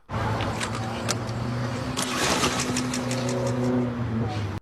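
Women imitating motorcycles revving with their voices for a meme, a sustained buzzing, engine-like drone that swells and rises in pitch across the whole stretch, loud and close, with no spoken words.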